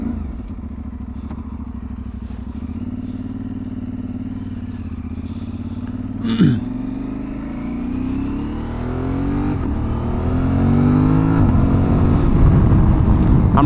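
New motorcycle ridden in urban riding mode, engine rising steadily in pitch as it accelerates, with a loud continuous drone, wind rush and a brief clatter midway, getting louder toward the end.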